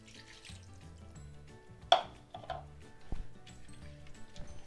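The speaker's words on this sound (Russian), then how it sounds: "для того, чтобы картофель успел приготовиться, нам нужно добавить воды" Water is poured into a pot of potatoes cooking on the stove, a brief splash and bubbling that follows a sharp clink, with light kitchen clatter around it and no talking.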